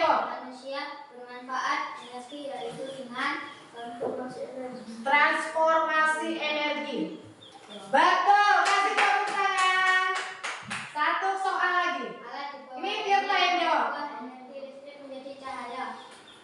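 An Indonesian children's audience claps in bursts at a learning show, with kids' voices and an adult host speaking loudly over the applause throughout.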